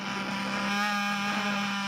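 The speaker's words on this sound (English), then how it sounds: "Sorry about the noise, but my milk machine, see, is making milk." A steady mechanical hum with a constant tonal whine and broadband whir from a homemade milk machine running nearby.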